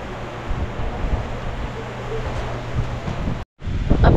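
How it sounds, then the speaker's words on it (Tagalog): Strong wind roars outdoors near a lake, a constant heavy rumble buffeting the microphone throughout, with a brief dropout near the end before the gusts return. "Grabe, sobrang lakas ng hangin."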